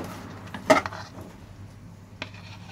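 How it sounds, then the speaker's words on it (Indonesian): Caramel popcorn being stirred in a pan, with a sharp utensil clank against the metal followed by soft scraping and a later lighter knock, close and fairly quiet. "Guys, tuh kita aduk ya. Sampai rata ya, sampai popcornnya bener-bener keaduk karamel."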